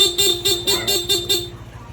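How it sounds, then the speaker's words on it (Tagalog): A Honda ADV160 scooter's added second horn sounds in a quick series of about seven short, loud, close honks in an even rhythm, then stops, with no one speaking. "nilagay po natin, second horn po"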